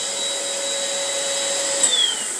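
A vacuum cleaner drawing up dust beside a Proxxon LWB/E 28492 angle engraver, a steady high whine and hiss running close and loud throughout, the tone sliding briefly near the end.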